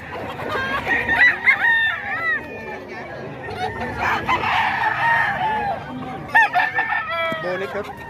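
Several chickens cluck and squawk nearby, with a rooster-like crow rising partway through, over a background of murmuring voices and general outdoor bustle.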